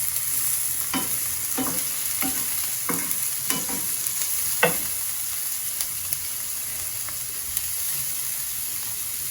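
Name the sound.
sautéing vegetables with carrots in a pan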